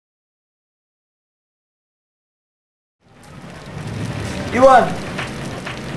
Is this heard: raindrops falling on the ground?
yes